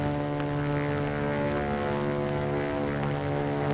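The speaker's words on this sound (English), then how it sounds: "It's a plane, all right." Propeller airplane droning steadily overhead, a constant harmonic engine hum at moderate distance with no voices.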